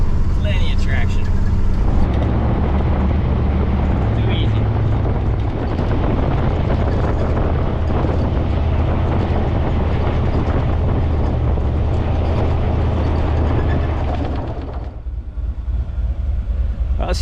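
A Ford Bronco drives on plowed snow in Alaska, a steady close rumble of engine and tires with wind buffeting. The noise thins out near the end. No one talks over it.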